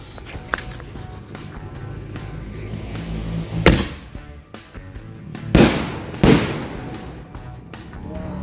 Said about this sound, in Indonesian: selanjutnya kita nyalakan mercon bola launcher